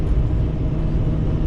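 Pickup truck cruising on flat ground while towing a machine trailer, a steady low engine and road rumble with constant tyre whir, close and even throughout with no voices.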